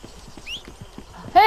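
Horse hooves trot in a clip-clop rhythm in the Red Dead Redemption 2 video game, moderately loud and regular, ending in a sharp, bright whinny from the horse.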